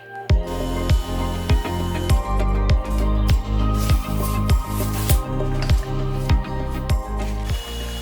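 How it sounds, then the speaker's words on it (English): A power drill with a small 1 mm bit grinds steadily into an aluminum e-bike frame, its motor whirring with short regular pulses, close and loud, with no voices. "Start with a small drill bit, round 1 mm in size."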